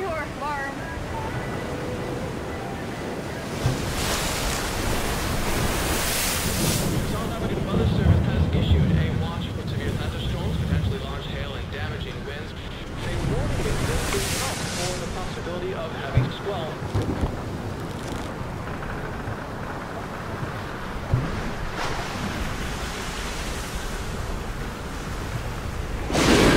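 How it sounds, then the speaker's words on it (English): On a sailboat at sea in high waves and rising wind, gusts buffet the microphone as waves wash and surge around the hull in a loud, continuous rushing mix. "There were really high waves. The wind became more and more and more."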